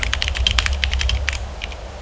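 Rapid typing on a tenkeyless mechanical keyboard with Akko white-on-black keycaps during a typing test, with crisp, closely miked keystrokes in a quick uneven rhythm that slow to a few scattered taps toward the end.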